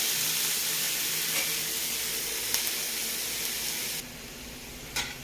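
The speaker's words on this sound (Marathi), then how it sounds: "कांदा परतून होतोय" Onion sautéing in a pan for hotel-style matar paneer, giving a steady close sizzle with a few faint clinks of stirring and no talk.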